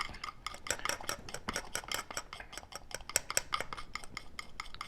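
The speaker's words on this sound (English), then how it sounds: "I could stir that up with my knife" A palette knife stirs painting medium, making rapid, rhythmic light clicks and scrapes that repeat steadily at close range and fairly low volume, with no voices.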